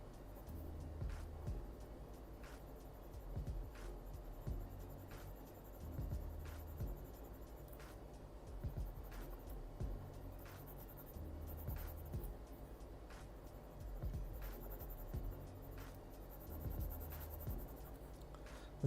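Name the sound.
pencil drawing trees on paper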